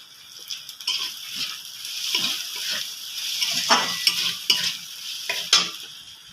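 Vegetables and slit green chilies stir-fried in a pan, with a steady sizzle and repeated scraping, clattering stirs close by and no talking.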